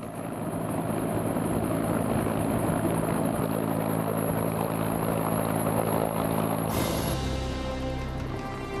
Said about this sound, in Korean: 그리고 안전을 이유로 헬기는 한 대씩 이륙하게 된다.